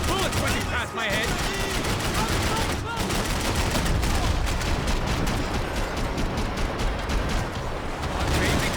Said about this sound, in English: I can't concentrate with bullets rushing past my head!